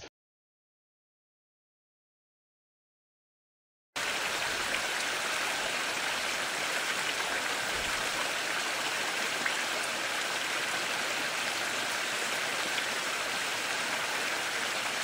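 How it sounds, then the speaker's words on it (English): A stream flows steadily after a few seconds of silence, a dense even wash of rushing water, close and constant, with no voices. "I hope you can hear me above the sound of the water once again"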